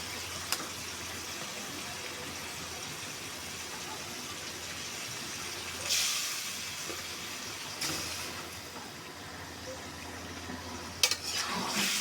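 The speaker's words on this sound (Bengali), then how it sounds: "এখন আমি মাছগুলি কষিয়ে নেব" Pangas fish pieces stirred in a pan of cooked spice masala give a steady, quiet sizzle with a few scraping stirs and brief clinks, heard alone with no talk.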